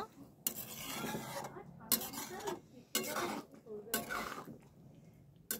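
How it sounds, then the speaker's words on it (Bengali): Pav bhaji vegetables with coriander being mixed in a pan: four rhythmic scraping strokes of a spatula against the pan, roughly a second apart, close and clear. "ভালো করে মিশিয়ে নেব।"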